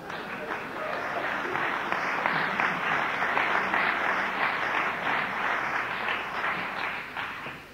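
An audience at a talk breaks into sustained applause, a dense, even wash of clapping that fills the whole stretch and fades slightly at the end.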